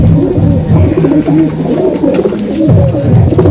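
Punjabi Malwai pigeons coo in a cage, overlapping throaty rolling coos repeating continuously, loud and close.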